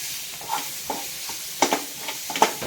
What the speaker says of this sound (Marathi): आता आपण बटाटा चांगला परतून घेऊ त्यामध्ये।